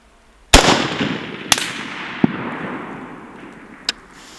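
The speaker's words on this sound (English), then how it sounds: "Okay, 3 shots." Three sharp rifle shots ring out at an outdoor range aimed at a steel plate, each loud crack followed by a long rolling echo, plus a fainter metallic report between them, with no voices.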